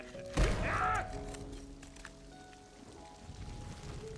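Rain in an animated film about a migrating duck family caught in a storm, a soft hiss of rainfall with a thump and brief tonal effects near the start, then a quieter steady wash.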